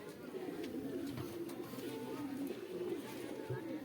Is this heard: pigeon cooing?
yes